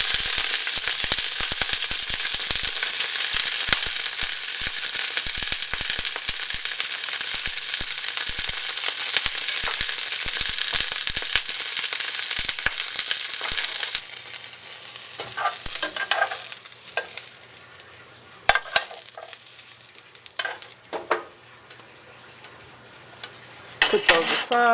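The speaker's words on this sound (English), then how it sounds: "we'll just take our green beans. It's going to splatter a little bit because I did not dry them" Green beans splatter and sizzle in very hot olive oil in a skillet, a dense, steady crackling hiss that fades after about fourteen seconds into scattered pops, stirring scrapes and a few louder clatters.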